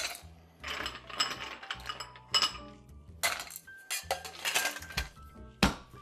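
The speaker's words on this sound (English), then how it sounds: "grab a little bit more ice" Ice cubes clatter and clink into a cocktail glass in irregular bursts, sharp and close, with rattling scoops between louder drops.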